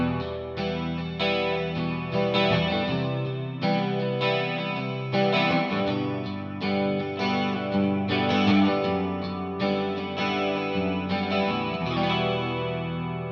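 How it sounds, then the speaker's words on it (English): Clean, chorus-tinged electric guitar strumming the opening chord pattern of a song, even repeated strums in a steady rhythm across several bars, close and alone with no talking. "We're going to start off with that clean guitar part at the top."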